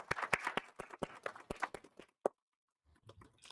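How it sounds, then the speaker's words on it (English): Scattered hand claps from a school board meeting audience, a dozen or so sharp distinct claps close by that thin out and stop, then faint rustling. "I think we should all give Liam a round of applause"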